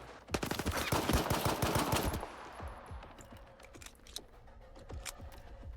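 Gunfire rattles in a firefight in the video game Stalker 2, with loud rapid automatic bursts at first, then sparser, quieter scattered shots.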